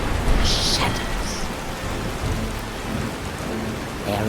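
Thunderstorm over a rocky coast in Skyrim machinima: dense, steady rain pours continuously under a low rolling rumble of thunder, with a few brighter splashes of heavier drops early on, loud and close.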